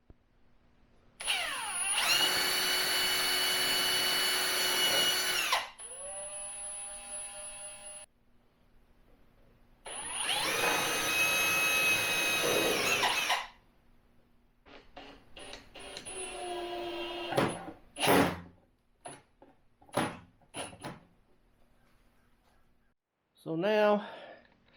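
A power drill bores angled pilot holes for screws in wood, with two sustained whining runs of several seconds each, followed by short irregular bursts and a final brief spin, all close and loud with quiet pauses between.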